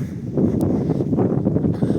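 Gusty autumn wind in Truskavets, Ukraine, buffeting the microphone, a steady low rumble with soft fluctuating swells throughout.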